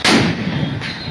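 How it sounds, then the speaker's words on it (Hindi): Grenades thrown by police and security forces burst among fleeing protesters in the Dhan Mandi area, giving a loud, sharp blast at the onset followed by a sustained rumbling roar with a second surge near the end. "ग्रेनेड के धमाकों से वहां अफरा तफरी मच गई"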